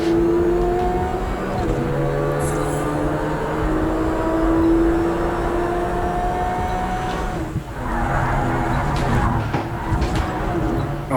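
Racing car engines drone and whine steadily in Project Cars 3 career mode, with shifting pitch as cars accelerate and jostle among rivals, including a blue Ferrari, plus some scuffing and skid-like noise under a continuous engine bed.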